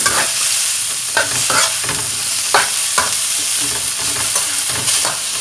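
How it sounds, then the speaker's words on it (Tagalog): Vegetables stir-fried in a pan with salt added, a steady loud sizzle broken by repeated scraping and tossing strokes of a utensil, close by, with no talking. "after a few minutes of stir frying our vegetables"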